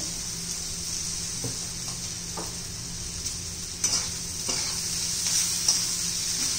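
Roti noodles made from leftover chapati being stirred in a pan: a soft, steady sizzle with occasional scraping strokes of the spoon, fairly quiet and close, with no voices.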